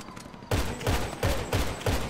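Gunshots in the GTA RP video game: a burst of heavy, booming shots fired in a steady rhythm, about five loud reports each ringing out briefly, with no talking.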